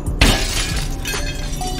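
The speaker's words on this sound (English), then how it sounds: "you can get out of there smashing the window with these bars" A car window shattering as it is struck with a seat headrest's metal bars, one sharp crash followed by a tinkling spray of breaking glass.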